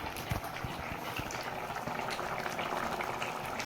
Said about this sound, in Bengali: মা পাপড় ছেড়ে হচ্ছে গরম গরম